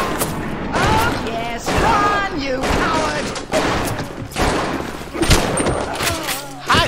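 Pistol gunfire in the video game Bioshock: repeated loud, sharp shots and booms across a busy, dense game mix, with a voice talking over parts of it.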